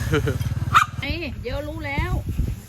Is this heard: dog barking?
yes